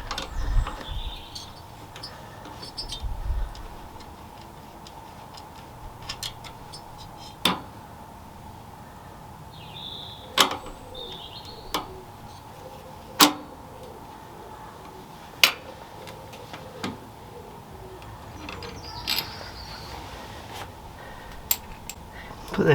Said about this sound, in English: this end is a 7/16 with a 1/2 inch nut on the back. So we'll loosen that off.